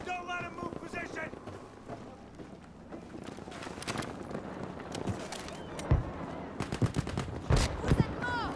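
Gunfire crackles in the Battlefield video game on the Rotterdam map, with repeated rifle shots and bursts from a Jungle Carbine and other weapons over game voice callouts and background battle noise.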